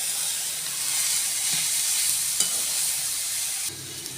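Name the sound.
stirring Maggi noodles with masala in a pan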